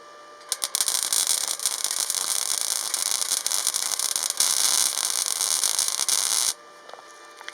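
A Parkside gasless flux-core welder on negative polarity runs an arc across stainless steel sheet, a loud continuous crackling hiss with sharp pops that starts abruptly, holds for several seconds, then cuts off.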